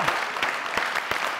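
Studio audience applause on a comedy talk show, a fairly close burst of clapping with distinct individual claps standing out in an irregular rhythm.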